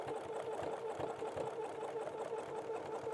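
A sewing machine stitches a pumpkin design onto a t-shirt, its motor running in a fast, even, continuous rhythm, close and fairly quiet, with no voices.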